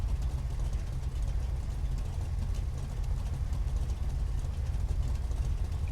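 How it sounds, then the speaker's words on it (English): A diesel car engine in the video game GTA V on the NoPixel server, producing a steady, dense low rumble that holds at an even level throughout with no talking. "Diesel engine just fucking ripping through."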